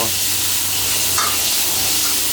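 Garlic fries in a hot wok with a loud, steady, close sizzle and hiss that holds unbroken throughout, with a faint brief scrape of stirring partway through.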